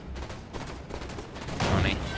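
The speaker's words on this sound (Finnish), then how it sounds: "ammuin turhaa" Gunfire in the Halo 5 video game during a legendary co-op campaign mission, a dense burst of shots that swells louder near the end of the short stretch, with faint background game sound throughout.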